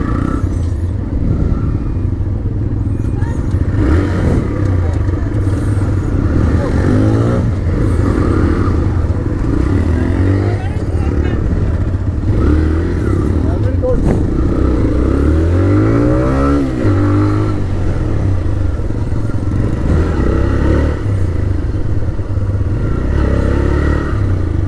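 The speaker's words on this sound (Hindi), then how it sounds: "तो अभी शुरू करते हैं बाइक को राइट अवे." A 2023 TVS Raider 125cc motorcycle runs steadily and close for the whole stretch, its engine rumbling and revving upward through repeated climbs in pitch as it accelerates and shifts through the gears on the road.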